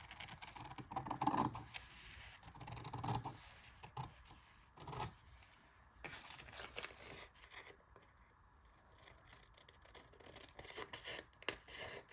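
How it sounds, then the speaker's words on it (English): Scissors cut through a napkin in a quiet room, giving soft, scattered snips and papery rustles spread over twelve seconds, faint and close with no talking. "we can go ahead and cut our napkin"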